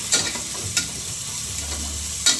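Spices for a green gram gravy frying in a pan give a steady close sizzle, broken by a few scraping stirs from a spoon, with no talk.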